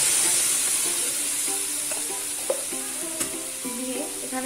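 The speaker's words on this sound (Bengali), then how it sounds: "আমি এবার এখানে মিক্সিতে যে আদা আর কাঁচা লঙ্কাটা বেটে রেখেছিলাম সেটা এখানে দিয়ে দিলাম" Ground ginger and green chili paste hits a hot pan with a loud, bright sizzle that gradually settles, while a utensil stirs and scrapes against the pan.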